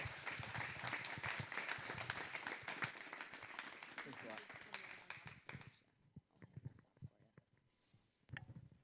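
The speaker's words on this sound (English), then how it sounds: "let's give one last round of applause for Brad Caldwell" A live audience at a startup founders event gives a round of applause for Brad Caldwell, steady and moderately close for several seconds, then dropping off to a few scattered claps with a voice speaking over the end.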